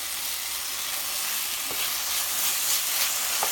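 Chickpea curry masala frying in oil as it leaves the sides of the pan produces a continuous bright sizzle with occasional stirring taps, close and steady, no one speaking.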